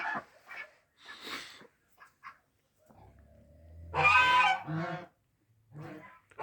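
Several loud honking calls from ducks, some harsh and nasal, separated by short pauses, with a low rumble in between.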